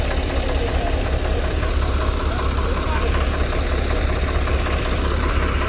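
Two tractors hitched together idle and rumble in a steady, loud, unbroken drone while trying to pull a trailer stuck in mud, the engine note continuous throughout.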